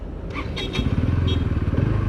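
A Bajaj Pulsar NS200 motorcycle engine, restarted after stalling on a hill ride, settles into a steady, close, throbbing idle with a rhythmic low pulse, preceded by a brief clatter as it catches.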